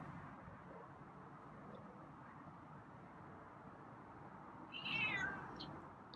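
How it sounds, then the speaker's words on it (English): A feral cat lets out a single meow near the end, fairly clear over a steady low background hum. "there's a meow"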